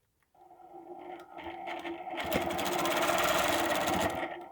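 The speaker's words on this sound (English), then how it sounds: "now we're going to stitch across the green" A sewing machine stitches a design across a green area, starting softly and building into a steady, loud, fast mechanical whir that runs continuously to the end.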